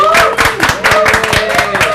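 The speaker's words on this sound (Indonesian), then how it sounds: "Tepuk tangan dong buat saya." Studio audience on a sport stacking television segment gives a short burst of clapping, with a few sharp distinct claps over a continuous din, loud and close.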